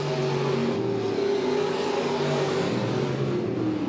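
Modified race cars thunder around a dirt oval during a POWRi Midwest Modified A feature at Monett Motor Speedway, a dense, continuous engine drone with a rising and falling pitch as the pack goes by.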